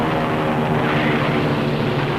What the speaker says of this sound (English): Planes return to their carriers, some of them coming the hard way.